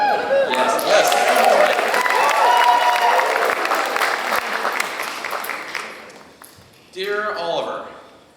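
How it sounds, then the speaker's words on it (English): An audience at a high school band spring concert applauds, cheers and hollers in a loud sustained burst that fades, followed by a voice speaking over the tail of the noise. "You have all the permission in the world to cheer and hoot and holler"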